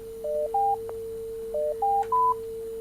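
Telephone keypad tones dialing a number on a call-in show's phone line, with two quick groups of clean beeps over a steady background hum.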